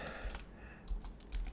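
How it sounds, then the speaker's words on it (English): Names are typed into spreadsheet cells on a computer keyboard, with a quick run of soft, close key clicks in a short irregular burst. "So I'm going to type in some names."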